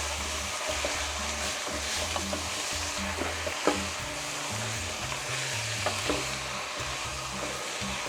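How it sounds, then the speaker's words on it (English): Pork mince fries in a pan while being stirred, giving a constant close sizzle broken by scraping stir strokes, with no voices. "what we're going to do now is in with our pork mince. And now all we're going to do is stir this in."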